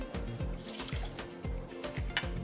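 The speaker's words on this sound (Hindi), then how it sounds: "इसमें इतना ही मैं पानी ऐड करूँगी।" Water poured into a small cup of sugar on a kitchen counter while making a mint drink: a soft, steady trickling over a couple of seconds, fairly quiet and with no voice.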